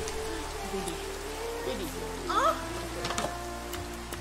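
Steady rain falls in a broad, even hiss throughout, while a few words are spoken over it along with other faint sounds.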